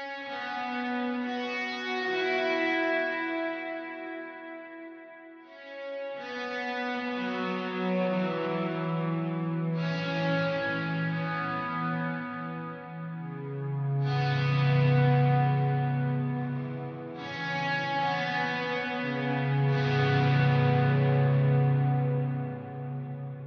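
A Source Audio Collider delay and reverb pedal in swell mode, with guitar chords swelling in softly and blooming into long reverberant tails, several sustained washes rising and overlapping one after another, loud and unbroken.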